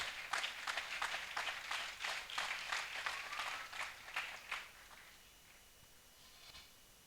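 A church congregation claps together, a dense burst of applause for about five seconds that then dies away to quiet room sound.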